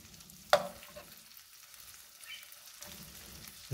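An egg fries in a pan with a soft, steady sizzle, quiet and close, with one sharp tap near the start.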